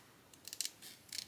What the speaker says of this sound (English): I'll grab my smaller scissors, and that way I've already got that started, and I can just cut out with my scissors